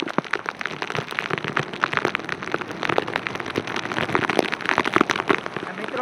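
First monsoon rain pours steadily onto a rooftop, a dense continuous patter of drops with sharper close splashes throughout, fairly loud and even, with no voices.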